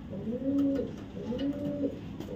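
A club racing pigeon coos twice in a low, rolling rhythm, close and clear with no talking.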